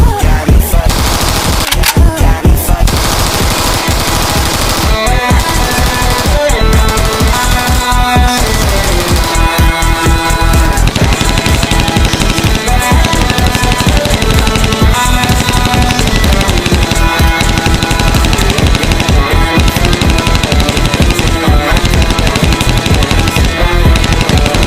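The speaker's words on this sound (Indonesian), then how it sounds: "Yaudah, kita main tembak-tembakan." Rapid gunfire in Sakura School Simulator, bursts of automatic shots crackling almost nonstop over electronic background music, loud and close.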